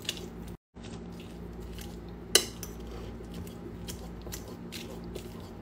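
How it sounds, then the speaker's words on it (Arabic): Cooked sweet potatoes are mashed with a fork in a bowl, giving soft squishing and light scraping with an occasional sharp clink of metal against the dish, close by. "الحين بعد ما هرستهم بالشوكة"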